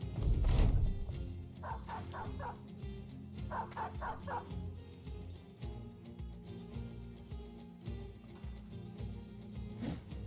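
A war dog in the video game Battle Brothers barks and yips in short bursts and then whimpers as it goes down, over a thumping, clattering battle soundscape with background music.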